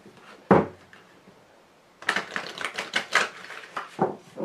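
Tarot cards give one sharp slap, then after a pause a quick, uneven clatter as they are gathered and shuffled close up.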